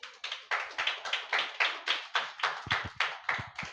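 A congregation at a Holy Communion church service claps hands in a steady, even rhythm, about fourteen sharp, close claps with nothing else heard.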